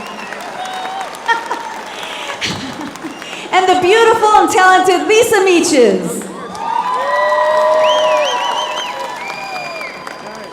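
A crowd at the Gathering of Nations powwow cheers and whoops with scattered applause while an announcer talks over a PA, and high shouts and excited voices rise and fall.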